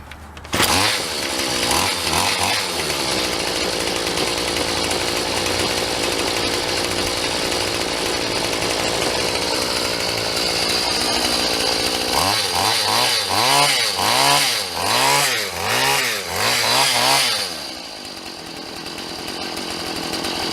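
Two-stroke engine on an MTD tiller runs loud and close with a high buzzing drone, then near the end surges and bogs in a rapid series of revs before dropping off.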